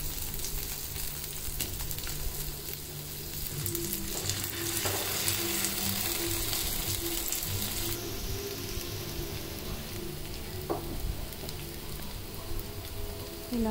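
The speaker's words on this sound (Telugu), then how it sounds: "ఇలా బాగా 2 సైడ్స్ కూడా గోల్డెన్ బ్రౌన్ కలర్ వచ్చేంత వరకు మనం ఫ్రై చేసుకోవాలి" Fish shallow-fries in a pan until golden brown on both sides, making a steady, close sizzle with a dense rain-like crackle and a few soft clicks, alone without speech.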